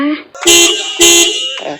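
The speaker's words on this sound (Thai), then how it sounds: "อันนี้เราก็จะบีบแตร เพื่อเป็นสัญญาณให้รถคันอื่นๆที่อยู่ด้านหน้า หรือด้านข้าง" A car horn pressed at the centre of the steering wheel blares twice in loud, close honks, with someone speaking briefly before and after.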